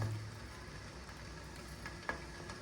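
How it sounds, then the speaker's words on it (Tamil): Sugar syrup for rasagulla starts to boil in a pan, giving a soft, steady bubbling sizzle throughout with one faint click near the end. "இப்போது இந்த சர்க்கரை பாகு நல்லா கொதிக்க ஆரம்பிச்சிருது"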